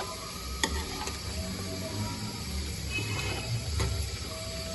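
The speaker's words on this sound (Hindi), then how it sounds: "तो इसको हमने अच्छी तरह मिक्स कर लेना है" White korma with bread mixed gently in a pot, soft low stirring and a faint simmering sizzle with a couple of light utensil clicks, close and quiet, no speech.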